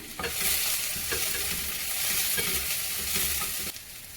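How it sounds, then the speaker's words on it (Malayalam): Chopped vegetables stirred and cooked in a pan for a Chinese-style chicken and vegetable dish, a continuous loud sizzle broken by regular scraping strokes of a spoon, with a brief drop in the last half second. "നമ്മൾ അരിഞ്ഞ് വെച്ചിരിക്കുന്ന എല്ലാ വെജിറ്റബിൾസും കൂടെ ചേർത്ത് ഒന്ന് ഇളക്കി കൊടുത്തിട്ട്"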